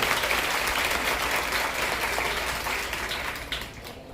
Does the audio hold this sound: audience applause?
yes